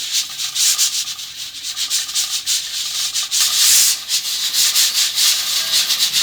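A stovetop pressure cooker full of red beans for bean paste hisses steadily with steam while its weight jiggles in quick, rapid pulses. The sound is continuous, close and fairly loud, with no voices.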